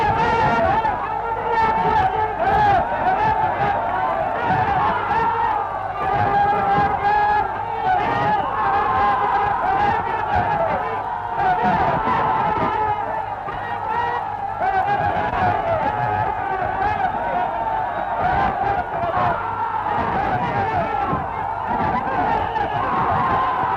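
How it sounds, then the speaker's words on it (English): Dense, continuous roar of a large Glasgow football crowd, loud and sustained with overlapping shouts and cheers swelling throughout, no pauses. "in the roar of a Glasgow football crowd"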